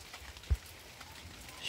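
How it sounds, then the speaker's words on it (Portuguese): Rain falling outdoors in a garden in Brazil's Northeast, a faint steady hiss with a soft thump partway through, quiet and diffuse with no talk. "Gente, a chuva tá de volta aqui no Nordeste."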